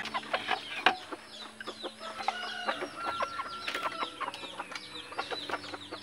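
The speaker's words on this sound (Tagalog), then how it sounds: "Yan yung ating tandang, si Gurang." Labuyo jungle fowl, a pet rooster and hunting hens, cluck repeatedly in short chirpy bursts close by, with a sharp nearby call near the start and steady background chatter of other birds throughout.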